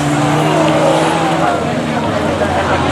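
Banger cars racing at Arlington, engines roaring loud and close with tire noise, a commentator talking over the din.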